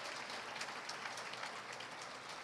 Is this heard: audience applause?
yes